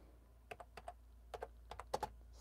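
Computer keyboard keys clicking in a quiet room, a dozen or so irregular taps in small bursts with short pauses, close and fairly crisp over a low steady hum.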